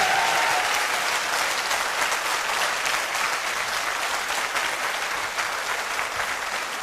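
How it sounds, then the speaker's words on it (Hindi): Sustained audience applause at a Hindi motivational talk, dense and steady clapping from a large crowd filling the space for the full length with no speech. "तालियां बजानी है तो तसल्ली से बजा दो,"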